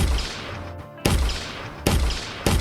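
Rifle shots in an Unreal Engine 5 first-person shooter prototype: three sharp, loud single cracks spaced unevenly over a few seconds, each with a short decaying tail over a steady game-ambience bed.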